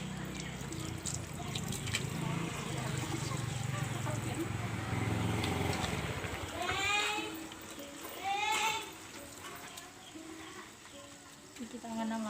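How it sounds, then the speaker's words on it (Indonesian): Hands are washed with soap under running water in a clinical setting, a steady trickle and splash of the stream with rubbing noises, while a voice narrates over it throughout. "Selanjutnya, cuci tangan dengan air mengalir menggunakan sabun."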